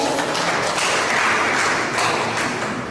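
An audience at a Ghanaian community gathering in Tripoli, Libya, applauds a newly introduced group with steady, dense clapping that holds at an even level throughout.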